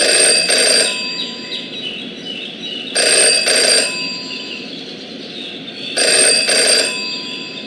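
An old telephone bell rings in the Jenny LeClue detective game, three loud bursts of double rings spaced about three seconds apart, with a quiet ambient hum between them.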